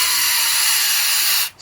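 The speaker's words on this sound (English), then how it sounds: "Spray some stuff in there. You'll see it's coming out the other end." Close, loud spray of carburetor cleaner forced through a channel of a Kawasaki KZ400 carburetor, a steady hiss lasting over a second before a brief pause and a fresh burst at the end.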